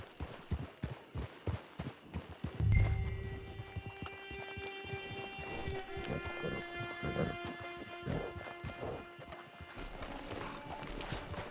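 A horse in the Red Dead Online video game walks near a camp. Rhythmic clip-clop hoofbeats come first, then a louder snort or whinny, and the hooves carry on at a slower, scattered pace.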